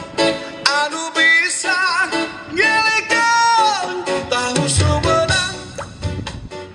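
Music plays through an Ashley IR 500 portable speaker in its outdoor sound mode, a steady, fairly loud stream of tuneful vocals and instruments with no talking over it.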